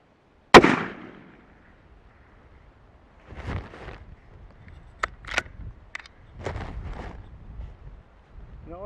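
6.5 PRC rifle fired at steel targets: one sharp, loud shot at the start, its boom decaying, followed by several fainter distant metallic impacts and knocks spaced irregularly.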